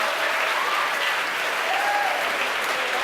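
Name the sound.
crowd cheering and applauding at SpaceX headquarters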